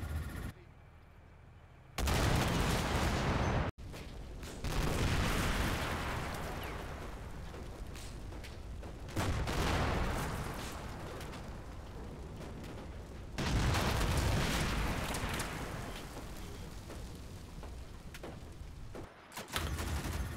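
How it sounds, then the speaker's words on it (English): Airstrikes and rockets pounding a highway outpost in the war game Combat Mission Shock Force 2, a sustained roar of explosions and gunfire with heavy booming surges and dense rumbling between them. "The airstrikes continue against the highway outpost. They're pretty much just chucking rockets into that entire compound"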